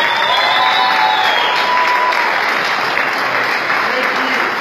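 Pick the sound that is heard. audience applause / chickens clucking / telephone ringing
audience applause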